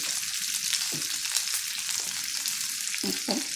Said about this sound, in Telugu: కొద్దిసేపు ఇట్లా ఫ్రై చేద్దాము ఈ ఉల్లిపాయ ముక్కల్ని